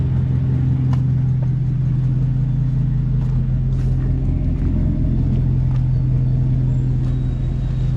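A 2004 Dodge Ram 1500 with new dual exhaust pipes running over the top idles with a deep, steady rumble, close and continuous throughout.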